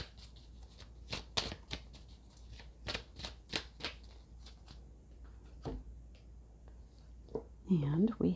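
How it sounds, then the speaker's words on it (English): A Sword of Light oracle card deck is shuffled up close in a quiet room, giving a series of crisp, papery riffles and soft slaps at an uneven pace, with faint rustling and a brief murmur near the end. "we are going to get a message from Archangel Michael using the Sword of Light Oracle deck"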